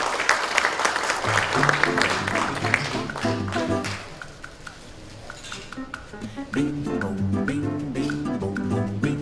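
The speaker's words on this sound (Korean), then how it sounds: "큰 박수 부탁드리겠습니다" Applause at an award ceremony for the textile and fashion industry, a loud burst of clapping that fades, then returns under musical accompaniment with rhythmic clapping along.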